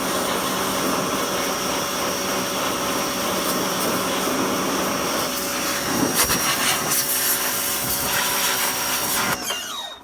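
Pressure washer spraying down the oily 4.3L engine bay of a 1992 Chevy S10, a steady loud hiss and roar of water that runs nearly unbroken with a brief surge midway and cuts off at the end.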